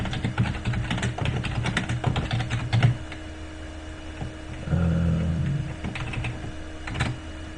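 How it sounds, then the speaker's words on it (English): Typing on a computer keyboard while entering notes in reference-management software: a steady patter of key clicks through most of the stretch, with a low hum underneath and a brief louder swell partway through. "So I can type here,"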